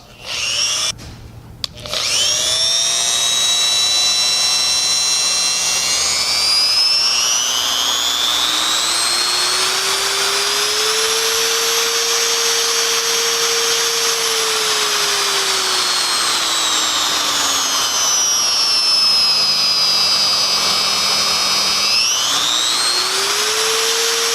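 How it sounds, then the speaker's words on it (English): A Metabo GE710 die grinder spins up with a click and runs for a long stretch, a loud high-pitched whine that climbs and eases as its speed shifts, close and steady with no talking. "It literally sounds like a jet engine taking off."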